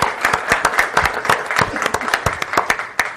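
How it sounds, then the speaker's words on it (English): Small audience at an evening whiskey tasting panel applauding a raffle-winning panelist, brisk scattered claps in a continuous burst, fairly close, no speech over it. "Let's give him some applause here"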